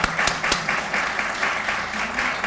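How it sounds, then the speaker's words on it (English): A crowd claps steadily at a West Virginia Press Association Hall of Fame induction ceremony at Oglebay Park, a dense wash of applause from a gathered audience holding constant for the whole span, with a few sharper nearby claps. "Could I have a round of applause?"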